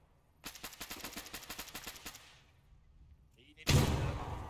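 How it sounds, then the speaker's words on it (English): Rapid bursts of gunfire ring out in a military video game, a quick string of about a dozen shots followed by a louder, closer blast near the end, with no voices in between. "Got an audible on gunfire northeast."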